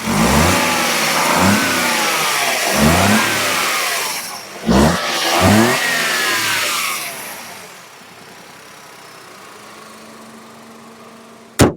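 Maruti Dzire three-cylinder engine revved hard several times in quick succession, each blip rising and falling, then settling into a low steady idle; close and loud, with a sharp click at the very end.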